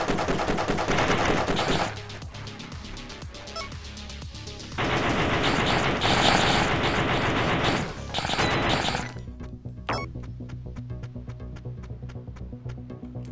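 Rapid bursts of gunfire from the video game Shakedown Hawaii, dense automatic fire and explosive cracks over game music, fading to sparser single shots near the end.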